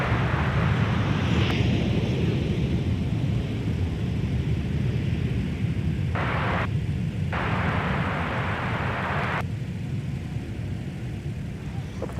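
An Airbus A321neo airliner at MSP airport produces a loud continuous roar with wind buffeting the microphone, steady throughout and broken by brief radio-like bursts.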